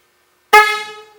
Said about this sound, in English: Alright, well the horn works.